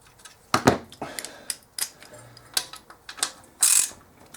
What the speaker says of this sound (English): we're going to take this bash plate off the bottom